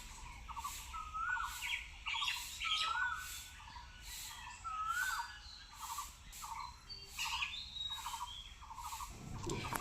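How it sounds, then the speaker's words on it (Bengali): Birds chirp on a cloudy village morning before rain, repeated whistled calls and tweets at moderate distance over a faint steady background, ending with a brief sharper noise. "সকালবেলা পাখিগুলো এত কিচিরমিচির করতে থাকে"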